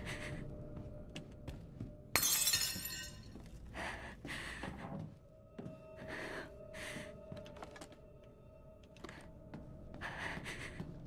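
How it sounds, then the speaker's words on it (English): Glass shatters in the video game Resident Evil 8, one sharp, bright crash followed by quieter clinking amid faint in-game ambient sounds. "It's like something glass broke."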